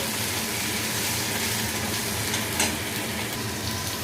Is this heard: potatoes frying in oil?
yes